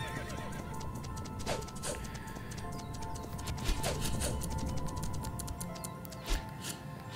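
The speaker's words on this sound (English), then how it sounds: "Horse, don't go away. I need to tame you." A video game horse neighs and whinnies amid clip-clop hoof sounds over a constant game ambience, with a few sharp clicks and taps.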